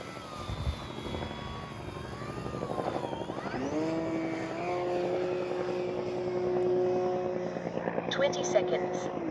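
An FGFRC Flex Mamba 10 G2 RC airplane flies up high in a sport-flying session, its propeller and motor whining steadily with rising and falling pitch as it maneuvers, while a person talks over it.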